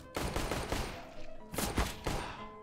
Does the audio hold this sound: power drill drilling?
no